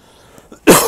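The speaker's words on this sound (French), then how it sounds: "à chaque fois que j'ai un truc important à dire, je tousse" A single short, sharp cough bursts out close and loud after a brief near-silence.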